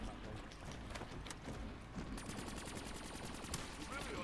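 Rapid gunfire from Black Ops 3 Zombies, a steady stream of automatic shots with clicking weapon sounds, fairly loud and continuous throughout, mixed with game noise and a faint voice.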